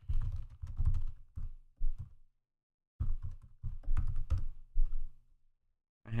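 Fingers type on a computer keyboard in two quick bursts of close, crisp key clicks with thunks, separated by a short pause, with no talking.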